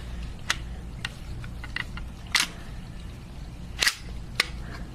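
AK rifle piston and gas tube pushed back into place, heard as a few sharp metallic clicks and scrapes spread over several seconds against a quiet background.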